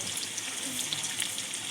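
Onions sizzle in a frying pan as a steady, soft hiss of hot oil that fills the whole moment without pause or voice.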